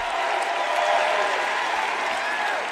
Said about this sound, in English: I don't think I've ever introduced anyone that got applause like he just got.